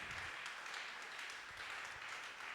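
A church congregation at a prayer gathering applauds and cheers, the steady wash of clapping faint and distant, continuing without a break.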